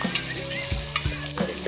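Cowboy beans with pepper and butter stirred in a pot, a brief close sizzle with a few soft scraping knocks of the spoon.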